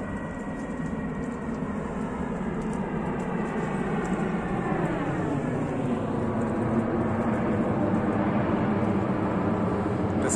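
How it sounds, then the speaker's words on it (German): Airplane passing overhead, a steady broadband roar that swells midway with a sweeping pitch shift as it passes, continuous and fairly loud throughout with no talk. "wieder das Flugzeug, das berühmte"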